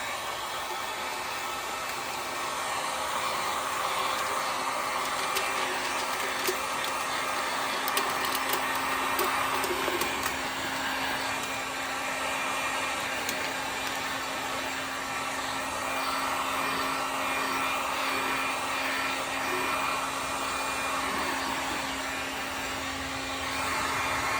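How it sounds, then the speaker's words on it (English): Heat gun blows steadily on shrink wrap around a sublimation tumbler, a continuous moderate whooshing hum with a faint tonal whine that stays unchanged throughout. "we will turn on our heat gun and do the shrink wrap."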